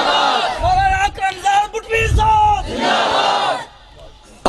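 A large crowd at a religious gathering in Pakistan chants the slogan La ilaha illallah in powerful, rhythmic unison, voices rising and falling in repeated bursts before a brief lull.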